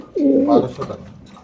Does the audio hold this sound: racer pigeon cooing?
yes